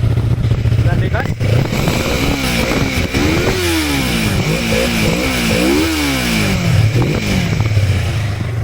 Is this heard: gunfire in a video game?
no